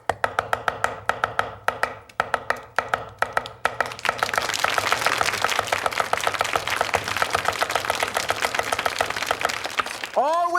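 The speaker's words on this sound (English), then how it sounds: "I'm going to chop up some cilantro and some cilantro roots to use it as flavoring" A knife chops cilantro leaves and roots on a cutting board, starting as sharp, separate taps and speeding into a steady rapid rhythm of close, crisp strikes, with no voices.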